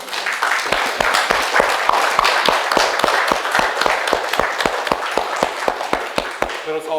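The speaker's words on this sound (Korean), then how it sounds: "이 시간 우리를 모든 진리 가운데 인도하시는 성령님께 감사하며 영광의 박수를 돌려드리기 원합니다" A church congregation claps together in a Korean-English worship service, many hands beating in a strong, steady unison rhythm of sharp, loud claps that continues for the whole span.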